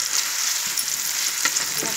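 Onion frying in a pan for an egg and potato curry, a steady close sizzle with faint stirring scrapes throughout, no talking.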